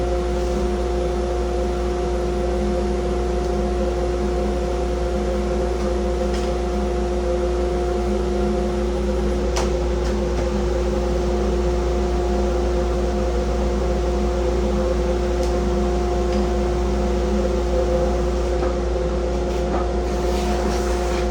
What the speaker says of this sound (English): I'm gonna fire up my vacuum